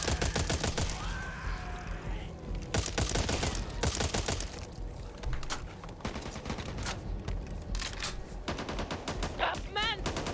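Gunfire in the co-op zombie shooter Back 4 Blood: dense, loud bursts of automatic weapon fire and single shots in rapid, continuous rattling runs, with brief lulls, partly mixed with voices talking.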